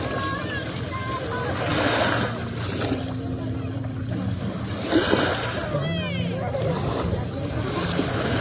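Sea waves wash in at a beach in soft surging rushes, with louder swells around two and five seconds, over a steady wind-like hiss. People talk throughout.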